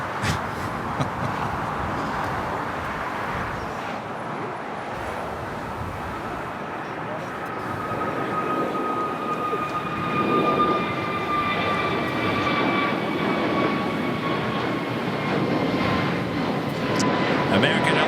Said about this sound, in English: American Airlines Flight 1966 heading to Charlotte in an A321 Neo